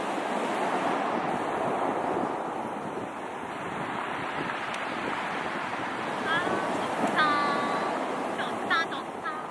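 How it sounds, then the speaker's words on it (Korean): Ocean surf rolls steadily on an East Sea beach at Jeongam in Yangyang, a continuous broad wash of breaking waves mixed with wind noise, with faint voices briefly heard toward the end. "파도 소리를 들을까요?"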